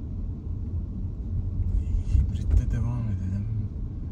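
A hybrid car drives through a neighbourhood with a steady low rumble of engine and road noise throughout. A brief voice-like sound rises near the end.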